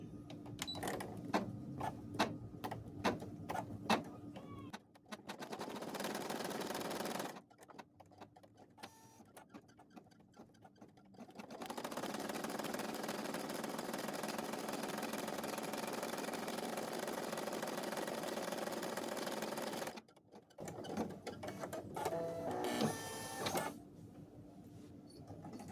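A sewing machine stitches down the center back of a fabric doll in long sustained runs with short pauses between them, close and steady, its motor whirring along with a fast mechanical clatter.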